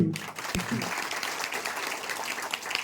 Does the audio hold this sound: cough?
no